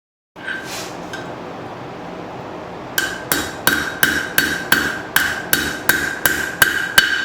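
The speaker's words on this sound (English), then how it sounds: "I'm pretty much just letting the hammer bounce off the anvil" A metallic hum, then a steady series of about twelve light, ringing hammer strikes bouncing on an anvil at an even, unhurried rhythm while forging a knife from a file.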